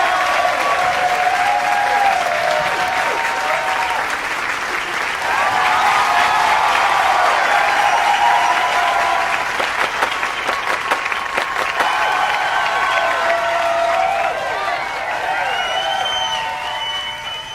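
Loud, sustained audience applause fills the room in continuous waves of clapping with some cheering, swelling and easing across the stretch with no pause.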